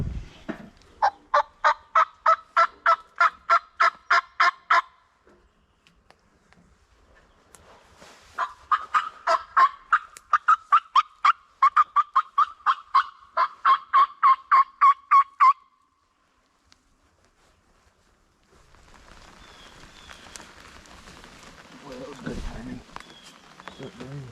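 Wild turkeys in a Pennsylvania field, heard from a ground blind, gobble in two long rattling bursts of rapid pulses, clear and fairly strong. A quieter stretch of murmuring voices follows near the end.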